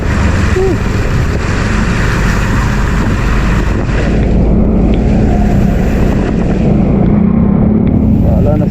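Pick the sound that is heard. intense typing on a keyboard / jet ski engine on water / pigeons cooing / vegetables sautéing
jet ski engine on water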